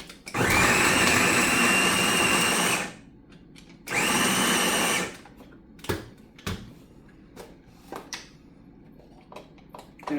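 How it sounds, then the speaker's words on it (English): Food processor grating cooked sweet potato, two loud whirring motor bursts of about two and three seconds, followed by scattered knocks and clatter of handling the machine. "doing this through the food processor is still going to take time"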